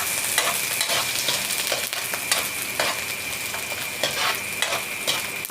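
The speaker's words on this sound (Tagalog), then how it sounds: "Atin mo nang igisa ng mabuti yung sibuyas para lumabas yung kanyang aroma" White onion sautés in a pan for a ginataang tilapia dish, with steady sizzling and frying broken by repeated scraping stirs of a utensil against the pan, close and alone.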